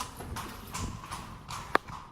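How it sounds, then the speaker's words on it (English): Horse hooves clip-clop faintly on the ground during a recreated ancient Nabataean horse ride in Jordan, a soft, uneven series of steps with one sharper knock near the end. "Sonia, This is the ancient horse ride of Nabat"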